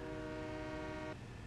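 A train horn in Farming Simulator 17 sounds one steady, loud, chord-like blast for about a second, then cuts off, leaving a low rumbling background.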